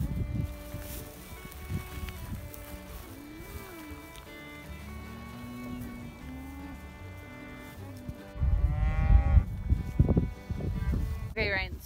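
A herd of pregnant South Poll cows gives low, drawn-out moos at moderate distance, followed by louder rustling and wind noise near the microphone.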